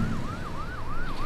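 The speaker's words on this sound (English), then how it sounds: "It magnifies and projects the vibrations, the noise, the sirens on the highway." An emergency vehicle siren on a busy highway, heard through an existing window: a wailing tone rises and falls in quick repeated cycles over a dense bed of traffic rumble.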